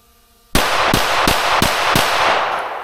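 Five rapid HK VP9 pistol shots at a shooting range, loud and close, evenly spaced about a third of a second apart, each sharp crack ringing into the next, with no talk.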